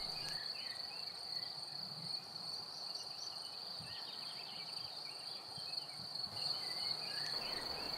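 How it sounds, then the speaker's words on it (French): Hundreds of crickets chirp in a pasture meadow, a steady high-pitched trilling chorus that carries on without pause, fairly faint and distant-sounding, with no voices. "Des centaines de grillons vivent dans cette prairie."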